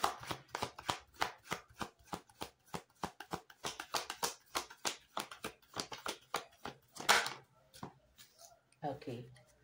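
Tarot cards shuffled by hand in a rapid, steady run of crisp riffling flicks, close and fairly loud, with a brief heavier burst near the end and a voice speaking quietly underneath.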